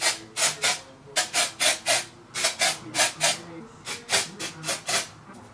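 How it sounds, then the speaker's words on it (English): Dry shampoo sprayed through hair in a quick series of short, close hissing spritzes, grouped in bursts of two or three with brief pauses between. "I like to take my dry shampoo again, and I just like to spritz it throughout my hair"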